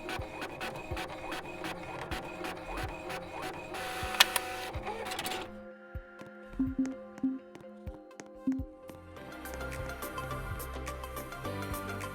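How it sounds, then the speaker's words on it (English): Printer printing in the Roblox hospital game Maple Hospital, a run of sharp rhythmic mechanical ticks and clicks, then a short quieter stretch with a few isolated clacks, followed by a steady synthetic whirring hum, close and moderately loud with no voices. "Okay, let's head towards our printer."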